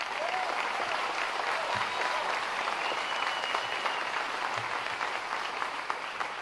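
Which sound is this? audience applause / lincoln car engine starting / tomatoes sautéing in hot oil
audience applause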